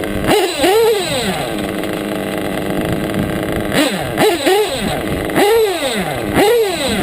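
A modded Triton engine on a mini bike revs hard in repeated sharp bursts, each climbing and dropping back to a steady rough idle, loud and close.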